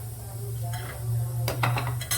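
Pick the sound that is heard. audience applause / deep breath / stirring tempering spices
stirring tempering spices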